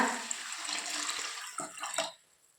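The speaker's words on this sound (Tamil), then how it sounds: "அரிசி முங்குற அளவுக்கு தண்ணி சேர்த்துக்கோங்க" Water pours steadily into a container over rice set to soak for white kuzhi paniyaram batter, a close, gushing splash that tapers off near the end.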